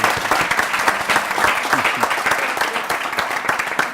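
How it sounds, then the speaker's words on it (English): Audience applause at a UC Davis evening event, a dense, steady wash of many hands clapping, loud and sustained throughout with no talk over it. "So one more round of applause for SYPartners."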